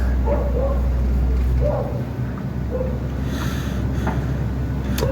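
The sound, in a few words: dog barking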